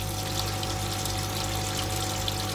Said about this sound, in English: I'll just run this on the tap here.